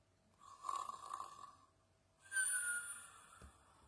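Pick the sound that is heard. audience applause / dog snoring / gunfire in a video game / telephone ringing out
dog snoring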